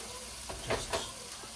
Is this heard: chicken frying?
yes